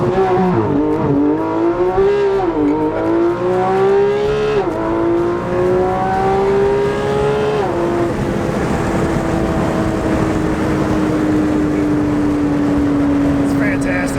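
A new car launches at full throttle from a brake-held start, the engine note rising sharply through revs then settling into a sustained high drone, loud and close, with people talking in the cabin.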